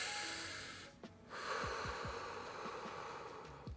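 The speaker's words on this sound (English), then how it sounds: "just deep breathing actually really helps relax you" Deep, slow breathing for relaxation, a long airy inhale and exhale close to the microphone, with soft snorting and faint clicking sounds.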